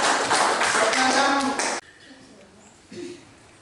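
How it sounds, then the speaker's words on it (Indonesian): Classroom applause for a student group after their presentation, a dense burst of clapping for nearly two seconds that stops abruptly, followed by quieter room noise and a brief voice. "tepuk tangan buat kelompok satu"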